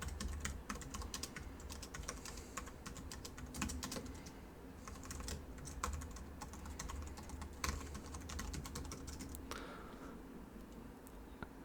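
Steady typing on a computer keyboard, a close, quiet run of quick key clicks with short pauses and no talking.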